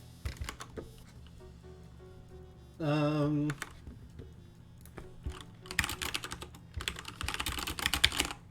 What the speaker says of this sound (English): You guys can listen to my glorious keyboard. Loud typeys.